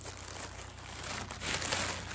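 Soft paper crinkling and rustling close by, quiet and continuous, with no speech.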